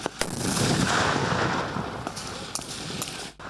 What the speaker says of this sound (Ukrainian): подавляють щільним автоматним вогнем. Поряд вибухають протитанкові міни.